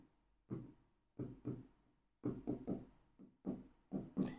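Pen on paper during an accounting lesson, with short bursts of handwriting strokes separated by brief pauses, close and faint.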